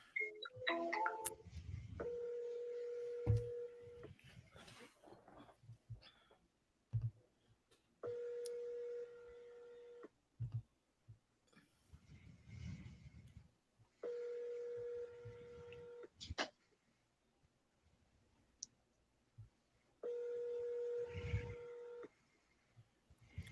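An outgoing telephone call rings unanswered, with evenly spaced ring tones repeating about every five seconds, and soft background clicks and rustles in the gaps between rings.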